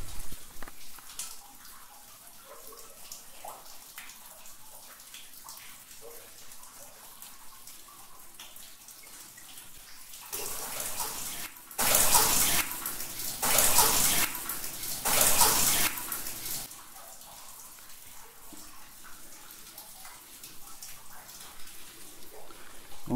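Running water in a temple: a soft, continuous trickle and splash that swells into three louder bursts of gushing flow near the middle before settling back to a faint steady stream.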